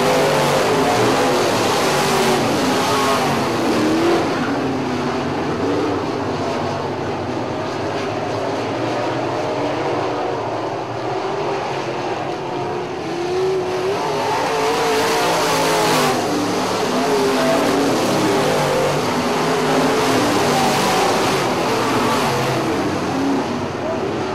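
Modified race cars circle a dirt oval track in a heat race, their engines roaring loudly and continuously, swelling and easing as the pack passes, with a faint announcer voice mixed under the din.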